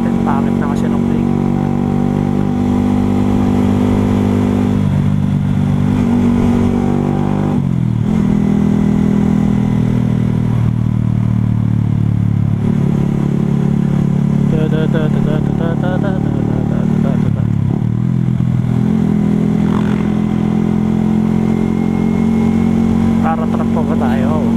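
A motorcycle engine runs steadily and loudly throughout, a continuous low droning hum with slight pitch shifts, on a bike with a worn front shock and poor brakes.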